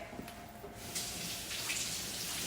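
Fresh limes rinsed under running water from a kitchen tap, a steady close hiss of flowing water that grows fuller after the first second and carries on without pause.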